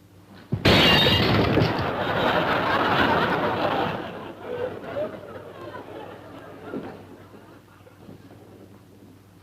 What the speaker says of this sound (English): Did I hear breaking glass?